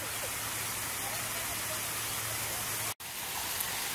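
Waterfall in a summer outdoor spot: a steady, full rushing roar of falling water throughout, close and constant, with a low hum underneath and a momentary dropout near the end.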